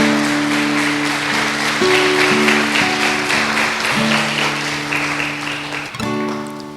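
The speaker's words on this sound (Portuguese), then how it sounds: "Eu gostaria que você aplaudisse a palavra de Deus." A church congregation applauds steadily in a dense, even wash of clapping layered over sustained keyboard chords, easing off slightly toward the end.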